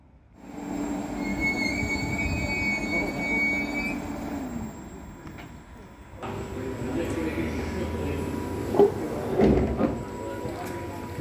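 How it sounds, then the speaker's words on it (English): A new train on the Island Line rumbles in to a platform with high metallic wheel squeals, then slows and settles with brakes hissing and clunks near the end. "And then the train arrived again on the other platform."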